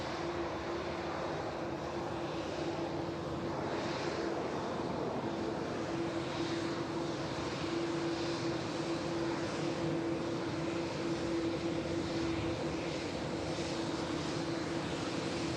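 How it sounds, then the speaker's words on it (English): A TUI jet arriving at Manchester Airport on a repositioning flight from Belfast gives a constant broad engine roar with a faint steady whine, distant and even throughout, with no nearby voices. "Here is that TUI repositioning flights in from Belfast"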